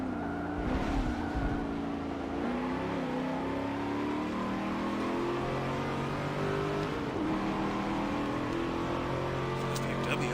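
BMW race car engine in Forza Motorsport 7, a steady droning whine that slowly rises in pitch as it accelerates, with a voice talking over it throughout.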